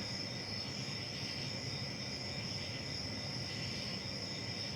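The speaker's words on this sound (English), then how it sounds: "notice the sounds of crickets in the background." Crickets chirping in a constant, even trill that stays soft and distant, with a low rumbling background underneath.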